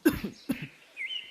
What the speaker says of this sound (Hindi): अरे ये खांसी कैसे हो गई?